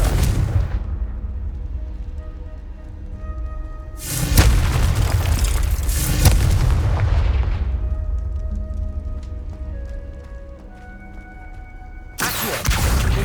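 Spell explosions from the Confringo curse in the video game Hogwarts Legacy: several loud, booming blasts with rumbling tails, one early, a pair close together mid-way and another at the end, over a low game ambience.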